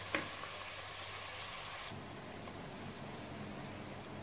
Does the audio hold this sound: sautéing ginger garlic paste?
yes